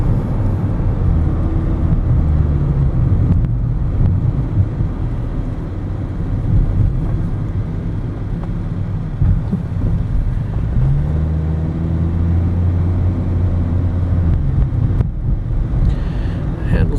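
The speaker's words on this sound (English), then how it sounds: "we'll go up and down a few hills, do a few speed bumps, see how the suspension feels" Interior of a 2008 Honda Fit Sport driving over hills and speed bumps, a steady low road and engine rumble with wind noise, loud and continuous, and a voice speaking at times.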